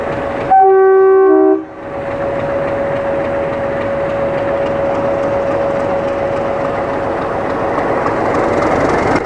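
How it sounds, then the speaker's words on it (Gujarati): An old diesel locomotive train pulls away from a station, opening with a loud sustained horn blast, then a steady, close mechanical rumble and hum as it gets moving. "જે જૂનું ડીઝલ એન્જિન આવે છે ને એ ડીઝલ એન્જિન જ છે."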